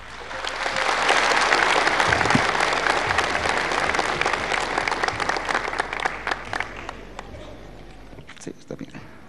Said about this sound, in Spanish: lo recibimos también con este fuerte aplauso